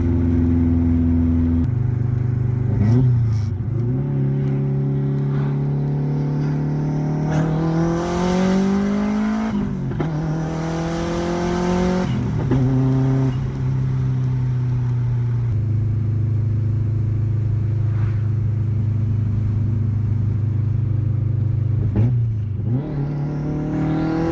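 Turbocharged car engine after a 1000-mile break-in, driven with the windows down: repeated hard accelerations with the revs climbing through gears and dropping at each shift, loud and close, with occasional whooshes and steady cruising between pulls.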